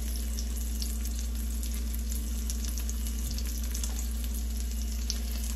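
Spinach frying in a pan while being stirred, giving a loud, continuous sizzle with scraping and stirring texture throughout and no talking.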